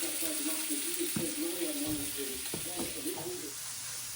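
Breakfast cooking on a home kitchen stove, a steady low sizzle with occasional clinks and scrapes of utensils over a constant background hiss.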